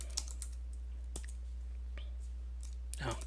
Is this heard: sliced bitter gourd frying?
no